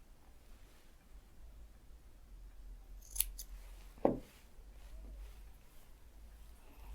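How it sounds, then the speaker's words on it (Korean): Scissors trimming the protruding seam of sewn fabric during bias binding of a hem, two quick faint snips over a quiet steady background hum. "봉제를 해서 튀어나온 부분은 이렇게 잘라주세요."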